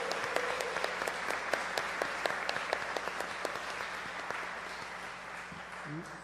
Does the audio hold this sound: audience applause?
yes